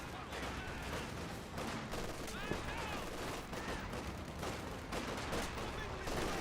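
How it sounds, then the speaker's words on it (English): MG42 machine gun in the Company of Heroes 2 video game firing rapid bursts within a dense, continuous battle din of gunfire and explosions, with a commentator talking over it. "MG42 firing away"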